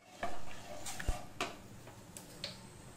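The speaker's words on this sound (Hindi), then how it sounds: "अब हम इसे चलाते हुए पकाएंगे" White sauce for pasta is stirred with a spatula in a pan, a quiet bubbling hiss with scattered soft taps and scrapes against the pan, one sharper knock early on, close and without voices.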